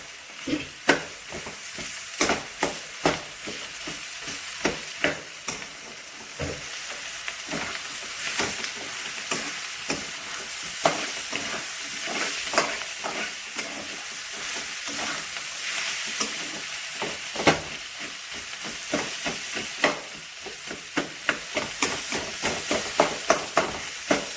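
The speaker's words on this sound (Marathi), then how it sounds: "असं उलटण्याच्या साहाय्याने त्याचे छोटे छोटे तुकडे करून घेणार आहोत" Boiled potatoes sizzle in a frying pan while a spatula repeatedly stirs and chops them into small pieces, sharp scraping knocks recurring irregularly over a continuous frying hiss.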